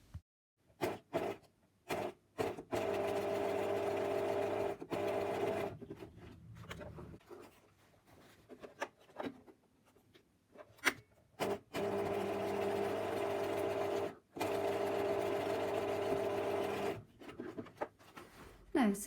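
A sewing machine stitches the bottom end of a corset's boning casing closed, running in long steady bursts with short pauses and brief stops between them.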